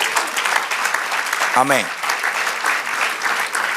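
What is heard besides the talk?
congregation applause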